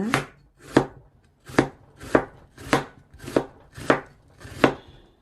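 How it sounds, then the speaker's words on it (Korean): A knife slices thinly through an onion on a cutting board, eight crisp, evenly spaced cuts that land close and clear with no talking. "최대한 얇게 어, 한번 채를 썰어 보겠습니다"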